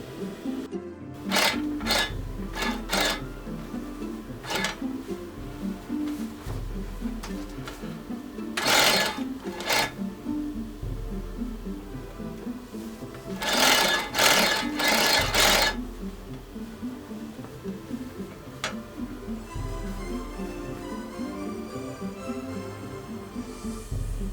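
A sewing machine hems a pencil pleat curtain converted from eyelet style, running in repeated close, loud bursts of rapid stitching with short pauses between them.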